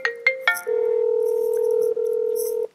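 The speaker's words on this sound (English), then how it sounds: "And here's the second device ringing." A second device ringing after a call connects, a few short beeps followed by a long steady electronic ring tone, clear and close.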